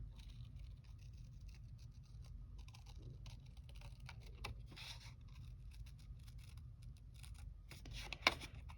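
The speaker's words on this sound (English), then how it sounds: "I'm going to use my X-Acto knife." An X-Acto knife cutting paper for a junk journal, quiet close scratchy scraping strokes in short irregular bursts, with a slightly louder snick near the end.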